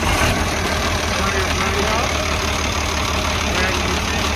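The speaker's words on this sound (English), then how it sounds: "So we hit the key, push in the clutch." An International 666 tractor engine runs at a steady, loud idle after starting, a continuous low rumble throughout with no clear pauses.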